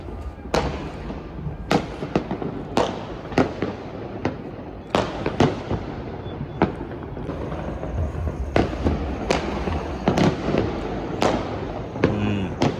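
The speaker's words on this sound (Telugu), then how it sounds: "క్రాకర్స్ చూడండి ఎలా ఉన్నాయి." New Year firecrackers bursting repeatedly in the distance, sharp cracks spaced a second or so apart over a steady rumbling background.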